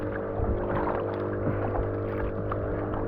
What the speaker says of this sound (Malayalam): നമ്മുടെ ലെഫ്റ്റ് സൈഡിലൊരു ബോട്ട് വരുന്നുണ്ട്